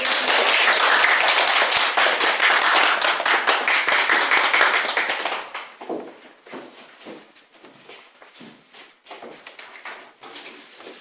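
A church congregation at a Sunday worship service claps loudly and in unison for about five seconds, then the clapping tapers into scattered, fainter claps and taps.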